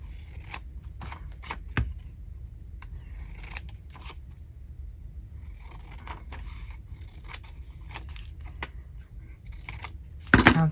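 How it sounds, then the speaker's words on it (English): Scissors snipping through paper while making journal bags, a series of quiet crisp cuts spaced irregularly, with a louder close snip near the end and no talking. "let's cut it and just see"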